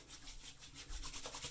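Hands rub a cocoa butter based, root beer scented lotion together, a soft close-up swishing friction that repeats for a moment with no talking.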